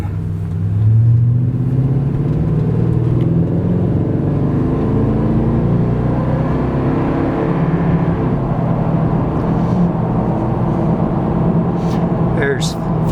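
A 2015 Toyota Tundra V-8 with BDS suspension and 35-inch mud-terrain tires cruises at about 55 mph. Its tires give off a steady, loud rumble and drone, with someone talking over the road noise.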